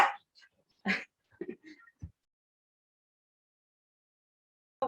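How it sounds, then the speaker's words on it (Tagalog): A dog at home gives a few short sharp barks and soft whimpers in quick bursts close by, then falls quiet for a few seconds before one more yelp. "Maingay lang yung aso ko, wait lang."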